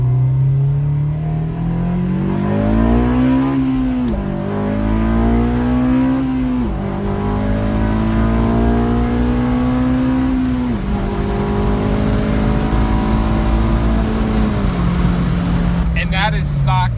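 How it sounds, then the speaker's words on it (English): A Honda car on a Hondata base map accelerating hard on a highway, engine revving up through several gear pulls with rising tone and brief dips at each shift, loud and close from inside the cabin. "Hopping on the highway, getting ready to do a few pulls."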